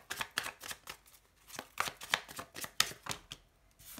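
Tarot cards are shuffled by hand close up, making soft uneven riffles and flutters in quick bursts with short pauses between them, fairly quiet with no talking.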